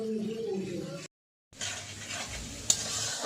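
Onions and bay leaves frying in hot oil, a bright crackling sizzle with a spoon stirring and a sharp clink against the pan, interrupted by a brief silent gap.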